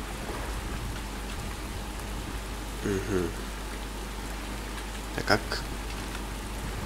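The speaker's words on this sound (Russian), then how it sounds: "А, кстати, у нас идет дождь." Rain falls in the survival video game Survisland as a steady, even hiss that runs throughout. A person speaks briefly over it, and there is a short rustle partway through.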